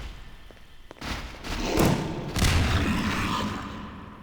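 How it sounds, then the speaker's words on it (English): An SMG grenade detonates in Half-Life 2 at Nova Prospekt, a heavy booming thud after brief clicks, followed by a second rumbling blast that decays slowly into background noise. "I use one SMG grenade"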